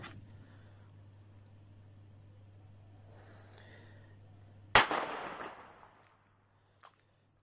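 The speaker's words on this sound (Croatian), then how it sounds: "Sad ćemo da zapalimo ovu petardu trouglić" A triangle-shaped firecracker set down on a surface at New Year's bursts with one sharp, loud bang. Its noise trails off over about a second, after a steady low hum.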